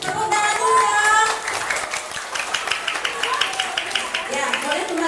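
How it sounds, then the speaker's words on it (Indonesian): Children at an elementary school in Tasikmalaya clap their hands, a loud burst at first that thins into scattered, uneven claps, with voices mixed in. "Tepuk tangan dulu dong."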